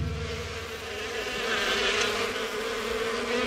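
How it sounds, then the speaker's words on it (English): Bees buzz in a children's TV episode, a continuous droning hum of several insects that holds steady and slightly swells in loudness throughout, with no talking over it. "It sounds like something buzzing. Buzzing bees!"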